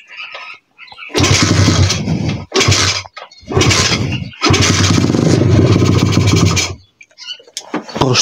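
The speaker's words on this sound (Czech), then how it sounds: "To dělá takovýhle divný zvuk." A 125cc pit bike engine with a carburetor fault revs in loud, close, ragged bursts with brief drops between them, giving a rough, uneven note.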